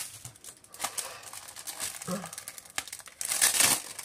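Halloween-themed scrapbooking paper crinkles and rustles up close in irregular bursts, getting louder and busier toward the end.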